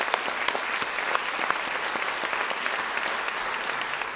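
A theatre audience at a public library author event applauds, with a moderate, even wash of many hands and a few sharper nearby claps standing out.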